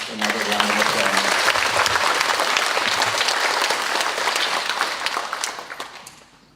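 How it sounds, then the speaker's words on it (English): Sustained applause from an audience at a primary school graduation ceremony, honouring award winners; dense steady clapping that holds for several seconds before gradually thinning out, with a brief hint of a voice near the start. "Can we please give all of our award winners another round of applause?"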